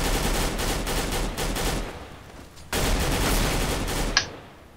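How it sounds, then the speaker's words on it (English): Galil rifle gunfire in Counter-Strike: Global Offensive, rapid bursts of automatic shots in two clusters with a brief gap, fairly close, followed by a single sharp metallic ping. "This guy's in pit trying to shoot somebody that's on site with a Galil."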